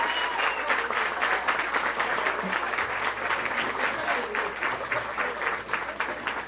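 Sustained audience applause at a live comedy show in Cuenca, dense steady clapping filling the whole stretch at even loudness, with no speech over it.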